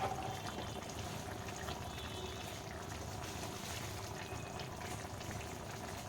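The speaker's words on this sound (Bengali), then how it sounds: "দেখো ঝোলটা ফুটে গেছে আমি এবারে একে একে বেগুনগুলো এর মধ্যে দিয়ে দিচ্ছি" Fish curry broth with rohu and winter vegetables bubbles at a boil in a pot while eggplant pieces drop in one by one, a steady low simmering rumble with faint soft plops and splashes, no talk.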